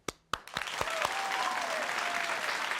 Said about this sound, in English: please, again, give him a huge round of applause, Mr. Mastin Kipp